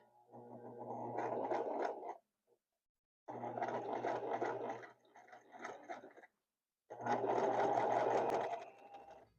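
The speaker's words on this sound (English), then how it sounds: "Remember, all sewing machines, you turn it towards you, the wheel." Sewing machine stitching through a thick denim hem, running in three loud close bursts of rapid needle clatter and motor whir separated by short silent pauses, with no talk.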